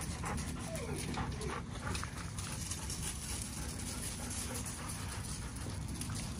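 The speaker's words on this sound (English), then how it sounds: "Got a couple puppies out here" A puppy whimpers and pants outdoors, with soft, intermittent whines over steady breathing and faint background noise throughout.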